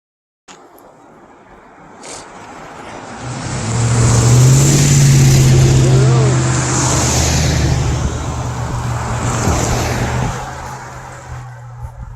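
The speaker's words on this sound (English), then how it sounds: "There is some traffic." A car approaches on a rural coastal road near Tomales, its tire and engine roar swelling to a loud pass at close range and then fading slowly away, with wind noise and no talking.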